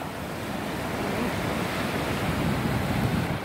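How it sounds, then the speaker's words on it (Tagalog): Strong ocean waves roll toward a reef at low tide in Matavera, Rarotonga, Cook Islands, a loud continuous rushing surf with wind noise on the microphone. "Tignan nyo guys kung gaano kalakas yung mga alon na papunta sa amin"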